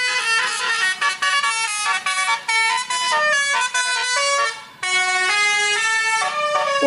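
Toy telolet bus horn playing a loud, continuous multi-tone melodic honking tune of shifting pitched notes, with one brief break near the end, no talking.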